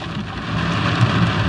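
Heavy rain pours down on an RV trip in Louisiana, a dense, steady, loud roar of drops hammering the surfaces all around, with no voices.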